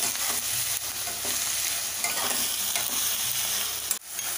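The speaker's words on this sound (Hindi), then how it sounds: "इसे ग्रीन प्याज को लाइट ब्राउन करना है" Chopped onions with green chillies frying and being stirred in a pan until light brown, a steady loud sizzle with scraping stirs throughout, no talk.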